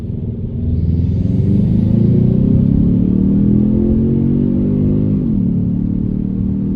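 A Kia Stinger turbo engine fitted with a cold air intake revs loudly and close, a deep droning roar that swells, holds for several seconds and then drops away as the revs fall.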